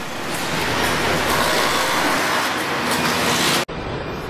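Dense, steady industrial roar fills a Hyundai car assembly plant in Alabama with welding robots at work, a loud continuous wash of machinery noise that drops out briefly near the end.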